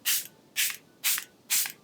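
Four short hissing bursts from a cosmetic spray bottle, evenly spaced about half a second apart, close and clear.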